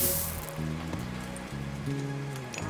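Rain god power effect in the real-time strategy game Age of Mythology, a steady hiss of rainfall running through the clip beneath a looping game music track of sustained tones.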